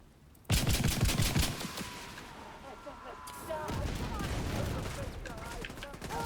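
Rapid bursts of video game gunfire crack out loudly, a heavy automatic volley at first, then continuing rattling shots with clattering effects behind them.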